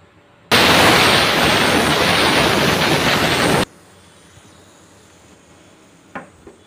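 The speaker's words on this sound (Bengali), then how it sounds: "আমি 9টি শীষ দিয়ে চুলা বন্ধ করে দিয়েছি" A pressure cooker steaming pudding lets out one loud, steady hiss of whistle steam for about three seconds, then cuts off abruptly, leaving quiet kitchen background and a small knock.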